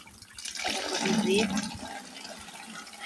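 Water pours out for a calf in a steady, fairly loud rush that swells in the middle and then eases, with a person talking over it.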